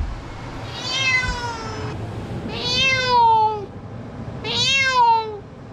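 An unhappy cat, just moved into a new home, meows three times in long, loud, wavering cries with short pauses between them, close up and alone.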